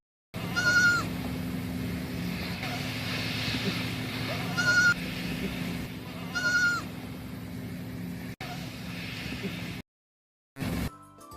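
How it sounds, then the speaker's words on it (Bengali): Young goat kids bleating in three short, clear calls spaced a couple of seconds apart over a steady musical backing. "ছয় ছাগল ছানা লাফিয়ে চলে।"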